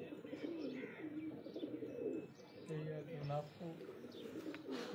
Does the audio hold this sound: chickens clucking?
no